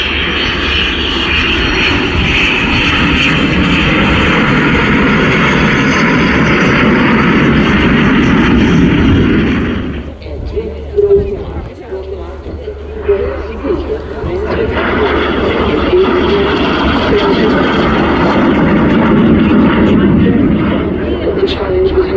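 Two aircraft make a slow, gear-down pass at the RIAT airshow, their loud engine roar filling the air, dipping briefly midway before swelling again, with announcer-style talk over the top.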